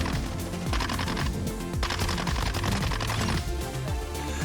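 A Bison submachine gun fires in rapid sustained bursts in Call of Duty MW2, dense and loud with brief gaps, layered over in-game effects and background music.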